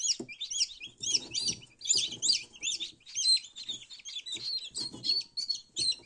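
Newly hatched turkey poults under a brooding hen, giving close, high bursts of chirping and peeping in quick irregular clusters, with soft low clucking beneath.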